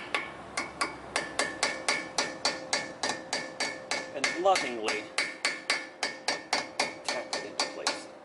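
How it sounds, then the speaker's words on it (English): Hammer tapping a brake part into place on a 1989 Chevy Astro, about twenty evenly spaced metallic taps in a steady rhythm, close and crisp, with a few words spoken partway through. "Just take your hammer of choice"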